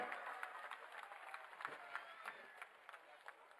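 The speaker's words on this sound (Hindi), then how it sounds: "जोरदार तालियों के साथ अपने बीच आमंत्रित करें।" Faint audience applause at a Hindi-language public event welcoming a former pro-tem speaker of the Madhya Pradesh assembly, with scattered clapping and crowd noise continuing steadily, somewhat distant.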